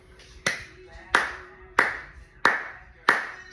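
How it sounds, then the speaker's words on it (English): Five slow, evenly spaced hand claps ring out one by one, each crisp and close with a short decaying tail, a deliberate golf-clap rhythm. "slow golf clap"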